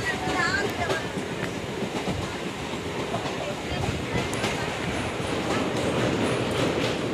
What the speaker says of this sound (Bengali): দেখুন, ডান দিকে মেন লাইনের আর বাঁ দিকে ট্রেনটি চলে যাচ্ছে।